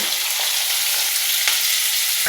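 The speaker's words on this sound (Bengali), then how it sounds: "দেওয়ার পরে প্রথমে ফুলকপিগুলো ভেজে নেব।" Cauliflower pieces fry in oil in a kadai with a dense, continuous close sizzle and a few faint stirring ticks, loud and steady throughout with no voices.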